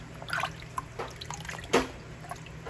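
Water drips from freshly rinsed skins set to drain into a kitchen sink while making sauce for canning; a few faint, scattered drips land irregularly in a quiet room.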